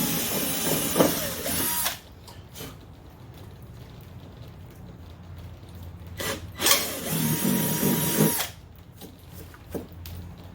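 A battery drill with its battery running low bores holes in the body panel of a 2020 Dodge Challenger widebody during a wickerbill install, in two loud whining bursts separated by quieter workshop noise.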